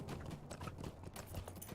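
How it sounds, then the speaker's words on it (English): Horse hooves clip-clop in a fantasy online role-playing game, a quick, fairly faint rhythmic patter of steps over a steady low background. "Get back on my horse."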